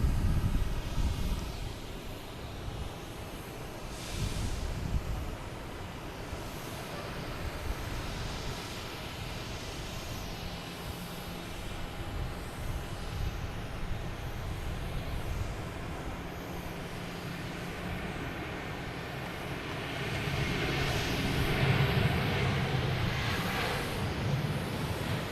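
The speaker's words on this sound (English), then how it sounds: "They got the clearance to take off. They are on the runway." A Japan Airlines jet taking off from Boston Logan Airport, a distant, broad engine roar that swells and fades amid wind and outdoor ambience, with no voices.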